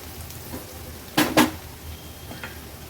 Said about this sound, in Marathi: हळद आणि मसाला तेलावर छान परतून घ्यायचा आहे